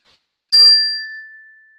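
A single bright chime rings out once after a brief silence, struck sharply and then ringing with a clear sustained tone that slowly fades, alone and close.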